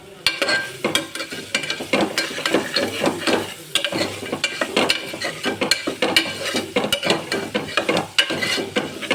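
Onions and potatoes frying in oil are stirred in a pan, with repeated scraping and clinking strokes over a soft, continuous sizzle, close and moderately loud.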